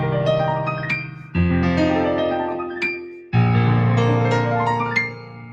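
Arpeggios rolled over a 2-5-1 chord progression, each chord struck and broken upward in ringing notes that sustain and fade before the next change, three phrases in a row, clear and close with no talking.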